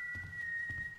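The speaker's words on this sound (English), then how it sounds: "he seems to like to whistle a lot" A guard whistles in the stealth video game Thief: one steady, sustained whistled tone carries through the whole moment over a low, muffled game background, with no one talking.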